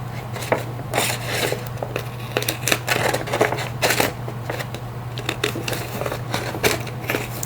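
Old scissors snip repeatedly through paper scraps, producing quick irregular crisp cuts and rustles close by over a steady low hum.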